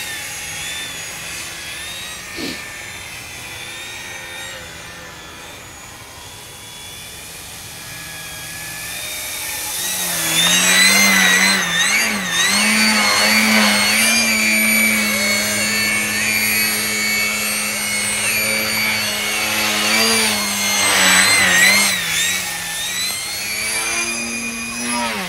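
An E-flite Eratix FF flat-wing RC airplane flies overhead, its electric motor and propeller whining steadily, then swelling louder and shifting pitch as it passes close and maneuvers, with no talk.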